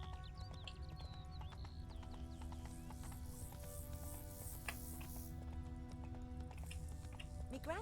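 Horse hooves clip-clop steadily while riding in The Witcher 3: Wild Hunt, a quick continuous rhythm over game music and ambience, with an occasional whinny mixed in.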